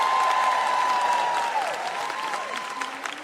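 Stand-up comedy crowd applauding in a venue, a sustained wash of clapping that gradually thins out, with a faint tone lingering beneath.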